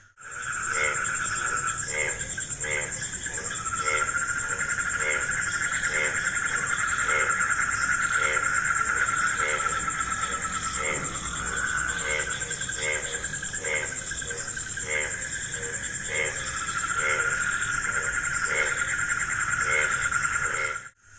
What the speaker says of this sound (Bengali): তো প্রচণ্ডভাবে ডাকছে ব্যাঙ এখন।